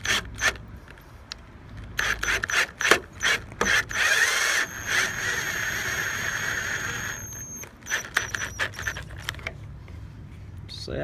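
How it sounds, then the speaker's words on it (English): A power drill drives self-tapping screws into a pre-drilled hole to fasten an LED light, giving a strained whirring squeal in bursts with clicks and handling knocks, one long steady run mid-clip, nearby and fairly loud. "I'm just going to use self-tapping screws here."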